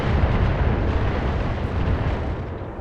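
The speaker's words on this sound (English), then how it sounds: "Target acquired and locked in. Here comes the Trebuchet's missiles." Trebuchet missiles strike in a video game, producing a loud rolling rumble of explosions that blurs into one sustained blast and fades slightly at the end.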